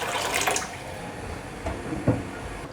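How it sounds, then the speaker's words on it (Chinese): Water in a soup pot at a rolling boil gives a dense, bubbling wash of sound with a couple of louder gurgles and splashes near the end. "水已经滚了"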